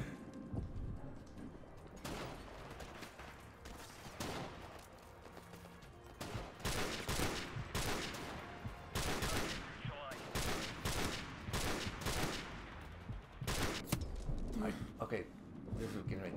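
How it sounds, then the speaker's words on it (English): Bursts of gunfire from Call of Duty 4: Modern Warfare Remastered on PlayStation 4, with repeated loud shots and rapid volleys in a campaign firefight, some close and sharp, others overlapping, under a voice talking. "Where are these shots coming from?"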